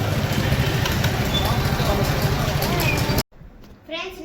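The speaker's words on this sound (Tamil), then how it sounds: "ரொம்ப டிராஃபிக்காக இருக்கு" Busy street in Mannady, Chennai, thick with traffic: a steady loud roar of engines and vehicles, with voices mixed in, cutting off abruptly near the end to a quieter stretch.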